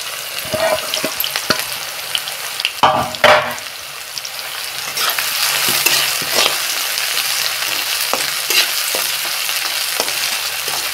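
Oil sizzles and crackles steadily in a hot wok for mutton keema, with occasional scrapes and clinks of stirring over the frying.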